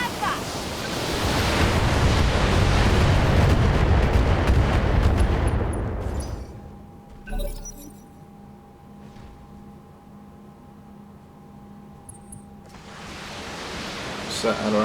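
A mech in the BattleTech video game fires all its weapons in one long, roaring salvo that fills the first six seconds, then fades to a quiet hum with a brief thump before another rush of noise builds.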